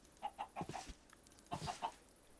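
Minecraft chickens cluck in a game world, two quick bursts of several short clucks each, close and clear with a brief pause between them and no talk.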